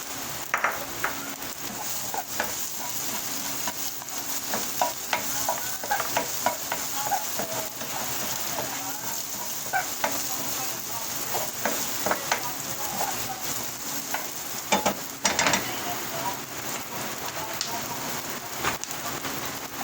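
Garlic and onion fry in hot oil with a steady, loud sizzle, broken by repeated scraping and stirring clicks of a utensil in the pan during home cooking.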